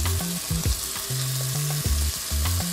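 Thinly sliced prosciutto browns in a pan on a restaurant stove, giving a dense, close sizzle and frying crackle throughout, with low tonal hums and a few stirring knocks; no one speaks.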